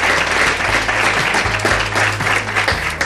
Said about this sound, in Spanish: fuerte el aplauso para Manolo García.